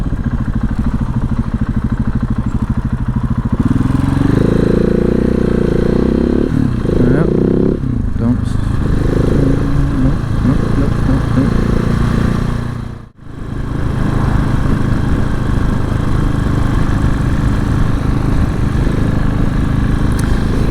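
A 2015 KTM SMC 690R motorcycle engine runs loud and close while riding, revving up and down as it overtakes, with a brief sharp dropout partway through. Someone talks over it.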